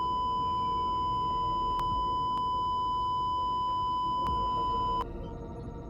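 Alarm on a starship captain's stats panel, sounding as a steady high electronic tone with sharp clicks layered over a low rumbling hum, continuing alone without talk.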